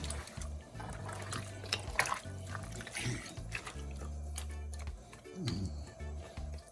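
Tap water runs from a faucet into a cooking pot during preparation of Jamaican stew peas, a steady splashing flow with some clattering and low kitchen hum, no talk.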